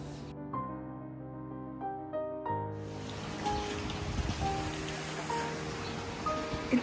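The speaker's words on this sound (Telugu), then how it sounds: "ఇంత చల్లగాలి వస్తుందో ఈ వానలో" Rain falls outdoors as a soft, even patter that takes over after a few seconds of tonal music and continues steadily to the end.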